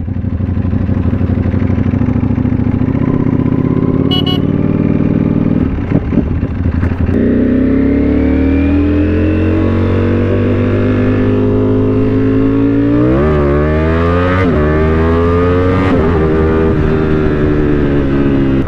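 Steady, loud engine roar from passing motorcycles and cars, with rising revs and whooshes as vehicles go by close.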